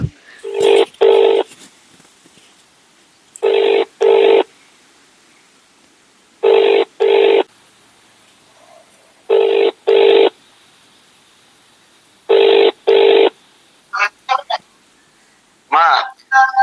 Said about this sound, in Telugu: ఇప్పుడు ఫోన్ చేస్తాను